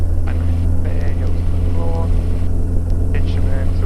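A Socata TB10 light single-engine aircraft drones at high power on its takeoff roll, a steady loud cabin hum with a strong low throb throughout, as a voice speaks faintly over it.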